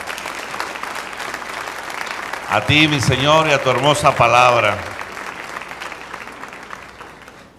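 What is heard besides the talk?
congregation applause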